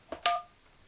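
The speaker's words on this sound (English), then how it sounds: "To dial an extension internally, either enter the number" Two short keypad beeps sound on a Yealink desk phone handset while dialing an internal extension, the second louder and ringing slightly longer, with quiet after.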